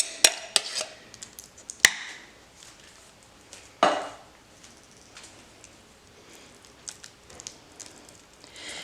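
Refried beans scooped from a can into a pan for a seven layer dip, with a few sharp metallic clinks and scrapes of spoon on can and pan, then soft quieter scraping and dabbing.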